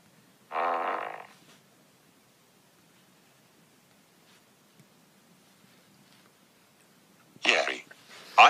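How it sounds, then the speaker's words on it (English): A short burst of flatulence rings out in a living room, followed by a long near-silence and then another brief noisy burst near the end. "I farted in the living room."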